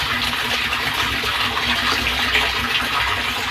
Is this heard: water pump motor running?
yes